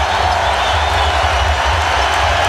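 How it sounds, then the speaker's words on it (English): Loud, sustained roar of an arena basketball crowd cheering and clapping at a Raptors home game against the 76ers after a Vince Carter shot, a dense wall of noise with no gaps. "This crowd is on its feet, and they are hysterical with what they're seeing from Vince Carter"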